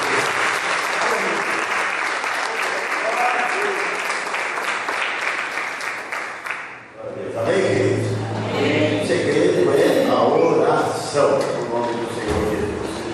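Church congregation claps together in sustained, dense applause that fills the space. Partway through it swells louder and rougher, with a loud voice carrying over the crowd.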